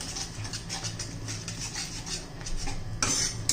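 Yogurt stirred into besan bhindi masala in a pan, a spoon scraping and clinking steadily against the metal with a soft frying hiss beneath, a sharper clatter near the end, no talking.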